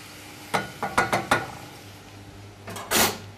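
Sugar is stirred into a pan with lemon juice, a cluster of clinking spoon-against-pan strokes followed by a quieter pause and a final louder scrape, close by and without talk.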